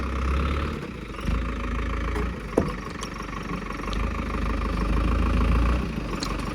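An old tractor idles steadily at close range, a continuous low diesel rumble with a brief knock midway. The tractor is being sent off for scrap. No one speaks.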